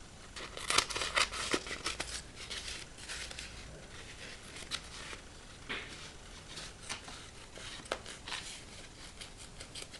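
Quiet snipping and crinkling of paper being cut with poor-quality scissors while making art prompt cards, irregular close-up cuts with a few rustles between them.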